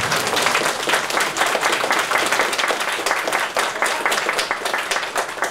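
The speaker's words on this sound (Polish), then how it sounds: "Mogą być oklaski." A concert audience applauds warmly, a dense, steady wash of many hands clapping that holds at full strength throughout without talk.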